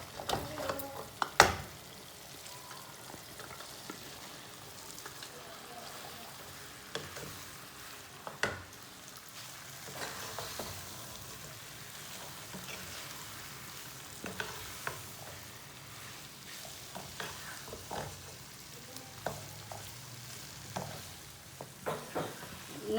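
Instant noodles fry in a pan with red chili and yellow capsicum, a steady close sizzle broken by scattered scraping and clicking stirs, with no talk.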